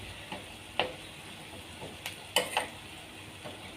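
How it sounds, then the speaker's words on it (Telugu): Onions frying quietly in a pan for a gokarakaya curry, a soft low sizzle with a few sharp spoon taps and scrapes against the pan. "ఇది మంచిగా ఫ్రై కావాలి. ఆనియన్ ఉడికిపోయింది."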